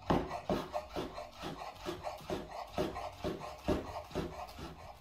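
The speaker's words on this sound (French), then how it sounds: "on en profite pour hacher l'aneth" A knife chops dill on a board in quick, even rhythmic taps, close and moderately quiet, with a soft scraping texture between strikes.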